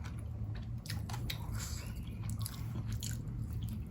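Close, steady chewing and biting of rice eaten by hand with young green chili dip and crispy pork rinds, with soft crunches and wet squishes repeating through the meal and no talk.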